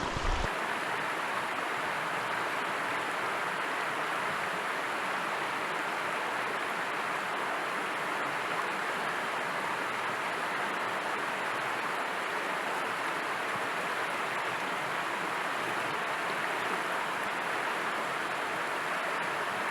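A waterfall in Kosciuszko National Park roars steadily up close, a dense, unbroken rush of falling water that stays constant throughout with no voices.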